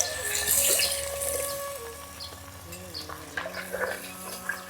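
Water runs and splashes steadily into a cooking pot at close range, loudest early on, with scattered clinks and light movement sounds as it continues.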